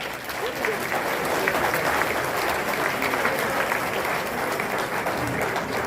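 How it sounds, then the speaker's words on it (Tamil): Sustained applause from a crowd, dense and steady clapping throughout at fairly close range. "ஒரு பெரிய பெரிய கைத்தட்டல்"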